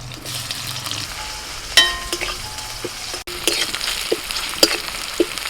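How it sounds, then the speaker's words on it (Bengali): Chopped onion with dried and green chillies sizzling steadily in hot oil, with stirring clatter from a utensil and a few sharper pops over the continuous fry. "পেঁয়াজটা হালকা ভাজা হয়ে গেলে দিয়ে দিচ্ছি শাক"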